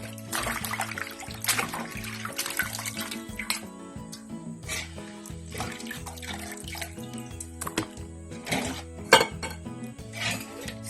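Beef offal rinsed in a pot of water, with sloshing, splashing and repeated clanks of metal against the pot, steady and close throughout.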